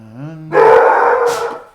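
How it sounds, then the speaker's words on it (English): A dog lets out a short rising howl, then a loud, close bark that stretches into a rough, drawn-out yowl before trailing off. "what are you barking at?"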